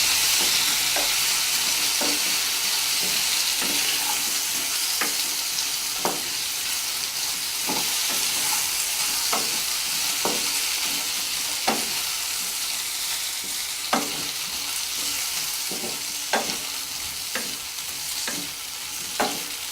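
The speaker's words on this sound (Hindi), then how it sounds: "हल्का क्रिस्पी होने तक हम फरे को टोस्ट करेंगे।" Rice fare snacks toasting oil-free in a pan, a constant loud sizzle broken by regular sharp scrapes and taps of the stirring spoon, no one speaking.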